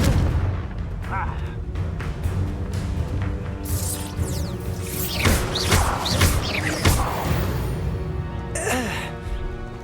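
Confringo spell blasts in the Hogwarts Legacy video game, heavy booming explosions and crashes repeating through the scene over a constant layer of game effects and music, loud and close.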